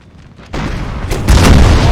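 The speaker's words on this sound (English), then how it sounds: "The artillery did an absolute fine job there, managing to rout the cav" Artillery fire in a Napoleonic-era battle in Napoleon Total War, a loud deep boom rolling in after a quiet start, followed by a second heavier blast and sustained rumbling, with no talk.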